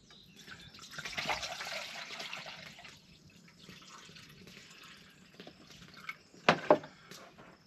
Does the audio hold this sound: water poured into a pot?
yes